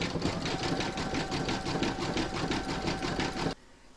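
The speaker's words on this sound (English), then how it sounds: "you can now stitch round number 19, and that's going to zigzag along here" Sewing machine zigzag stitching around a large reindeer applique, a loud close rapid chattering hum with even rhythmic pulses that stops abruptly near the end.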